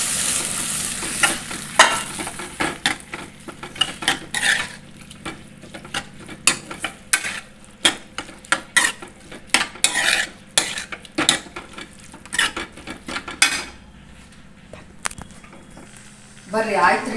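Boiled green gram is stirred into a pan for a moong and drumstick-leaf stir-fry, with frequent clattering scrapes of a metal spoon against the pan and a soft sizzle underneath.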